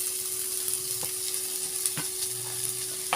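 Grated ginger, tomato and chopped carrot sizzle steadily in a pan, close up, as a spoon stirs them, adding a few soft taps against the metal.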